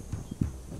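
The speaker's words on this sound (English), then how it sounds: "There's a horseman." Horse hooves clip-clop in a short, uneven burst of soft thuds within the video game This Land is My Land, moderately close over a quiet background.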